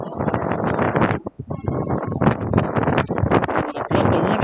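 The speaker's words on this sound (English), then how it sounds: "With a gust of wind at our backs" Wind gusts across a football field at a high school game and buffets the microphone in loud, ragged rumbles. There is a brief lull partway through before the blasts surge again.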